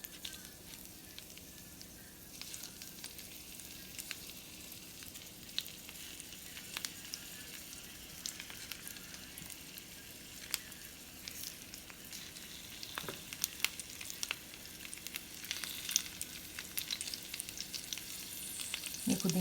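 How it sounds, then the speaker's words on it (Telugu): Masala-marinated fish frying in coconut oil with curry leaves for a Kerala fish fry, a steady soft sizzle that builds over time with scattered sharp crackles and pops, no voices. "ఇంకా నూనె వేసి దాంట్లో ఫ్రై చేస్తాను. ఎత్తి పెట్టుకున్న ఫిష్ ఒకటిగా దీంట్లోకి పెడతాను."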